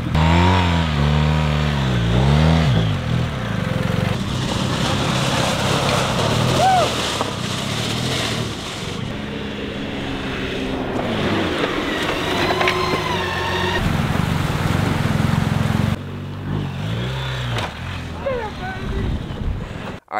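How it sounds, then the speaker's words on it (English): BMW R1250GS motorcycles perform a demonstration at a BMW facility, their boxer engines revving up and down in rising and falling sweeps, near and loud, with wind noise and a voice exclaiming over it. "here's a demonstration of some of the cool stuff that these motorcycles are capable of"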